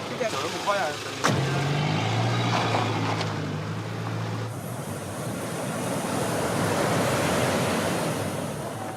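Evening surf rolling onto a beach near Accra, a broad steady wash of breaking waves that swells and holds, with a brief burst of other sounds at the very start.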